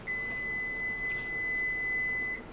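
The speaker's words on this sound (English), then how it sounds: "That's our timer." A kitchen timer set for 20 minutes goes off with one long, steady electronic beep, a thin high tone held for more than two seconds over faint room hiss.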